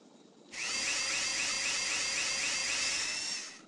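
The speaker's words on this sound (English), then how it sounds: "use the drill to make holes to join the tracks." A power drill in the Tonka Workshop game bores holes in track pieces: a loud, high, whirring whine that kicks in suddenly and holds for about three seconds before tapering off, heard alone.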